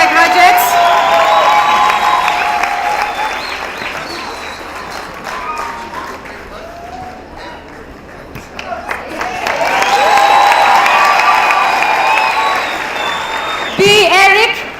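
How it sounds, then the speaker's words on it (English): Loud crowd applause and cheering for graduates at a Kenyan graduation ceremony, swelling in two long waves of dense clapping with whoops, fading between them, and a voice over the noise at the very end. "Let's give a round of applause for the graduates."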